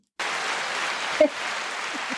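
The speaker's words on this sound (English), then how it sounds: "Let's give these ladies a round of applause." A button press sets off an applause sound effect: steady, even clapping that starts abruptly and continues at a moderate level, with a brief thump partway through.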